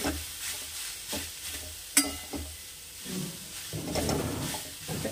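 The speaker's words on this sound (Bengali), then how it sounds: "এবারে এটাকে নাড়াবো, খোয়া ক্ষীরটা গলতে থাকবে।" Khoa kheer stirred in a pan as it melts, with repeated scraping strokes and a soft sizzle, a sharper clink near two seconds and a louder frying hiss building toward the end.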